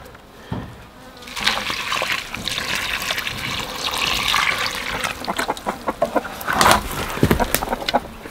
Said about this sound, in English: then pour water to soak